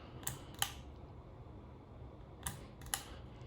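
Pull chain switch for the light on a 36-inch Hampton Bay San Marino ceiling fan, giving two pairs of crisp, close clicks about two seconds apart over a quiet room hum.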